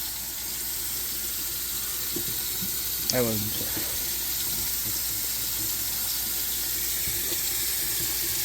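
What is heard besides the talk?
tap water filling up a pot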